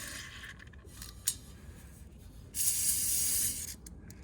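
An aerosol can of lubricant sprays through a thin tube into the set bolt hole of a failed blower motor on a Trane over-under heat pump: a quiet click, then one close, steady hiss of about a second.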